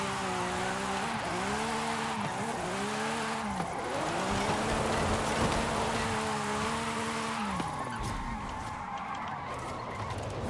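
A fully upgraded Lamborghini SVJ engine in Forza Horizon 5 revs and whines through repeated rising and falling sweeps, with tires squealing as it slides through drifts, loud and continuous throughout.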